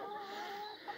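Chickens and a rooster clucking and murmuring together nearby in the morning, a steady low chatter of fowl with no clear pauses.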